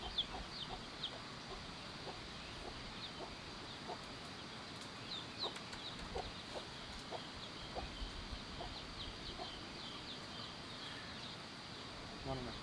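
Chickens cluck faintly among rural mountain homestead ambience, with a dense bed of insect buzz and scattered soft bird calls throughout.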